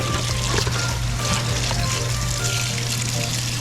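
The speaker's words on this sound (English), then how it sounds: "Now we want to get that drained off and rinse off all that extra salt." Water pours and trickles steadily while salt-cured fish fillets are drained and rinsed, a continuous close splashing wash with no talk.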